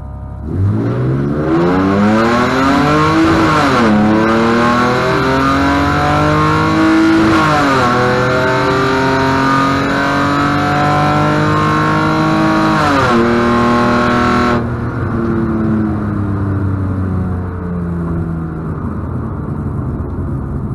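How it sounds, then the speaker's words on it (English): A BMW E46 engine revs repeatedly at a drag race starting line, held against the brake, climbing and dropping in several loud surges before settling to a steady idle-like drone near the end. "I hold down the brake pedal with my left foot and rev the engine with my right foot"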